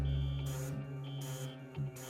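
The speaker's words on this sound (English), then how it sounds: "An alarm rings throughout the compound." A harsh electronic fire alarm blares through a compound, a buzzing tone pulsing in repeated on-off bursts, steady and fairly loud with no voices.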